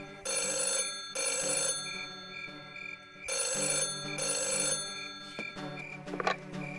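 A telephone bell rings in repeated pairs of trilling bursts, each about a second long, clear and fairly close.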